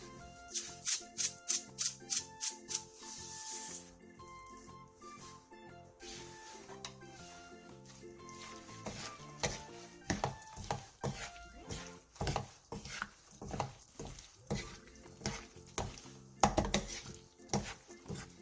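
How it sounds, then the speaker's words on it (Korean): Stir-fried onions are tossed with green onion, red pepper and sesame oil, giving quick rhythmic clatters of utensil on pan, then slower scattered knocks and scrapes, all close with no voice over them. "불을 끈 뒤 대파, 홍고추, 참기름 1스푼, 통깨를 넣고 가볍게 뒤적여 마무리해주세요"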